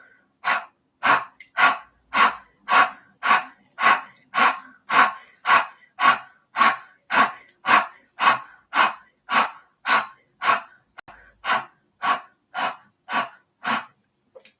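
During seated yoga, a person breathes in a fast, even rhythm, with over twenty forceful, close breaths about half a second apart that continue steadily without any talking.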